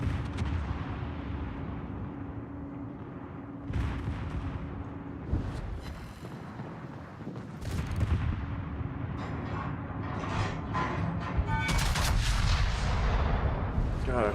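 Naval artillery booming from warships in World of Warships at night, with heavy repeated salvos and rumbling blasts over a continuous low engine drone, loud and close, with scattered crackling impacts.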